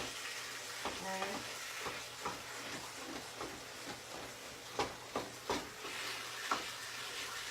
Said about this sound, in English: That mix and chop really does chop the meat up good.